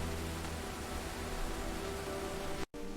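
Rushing water of a waterfall, a steady broadband roar that stays loud and even throughout, then breaks off for a brief instant near the end before resuming.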